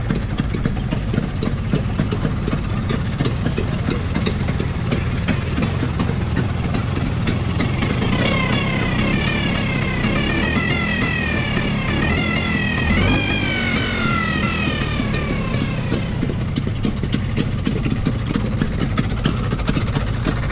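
A Vespa scooter engine idles steadily throughout, a constant low mechanical rumble close by, with faint chirping or whistling sounds rising over it in the middle section; no one speaks.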